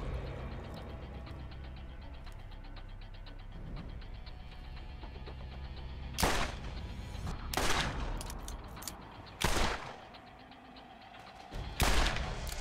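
Revolver shots ring out in the game Borderlands: several loud, sharp cracks come in an irregular sequence after a stretch of quieter game ambience.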